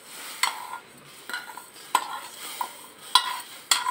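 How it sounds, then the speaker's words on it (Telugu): Fried vermicelli and sago are stirred into hot milk for kheer, a spoon scraping the pot in about six distinct strokes with clinks over a faint simmer, close and without speech. "సేమియాలను వేసాక మంచిగా కలుపుకోవాలి."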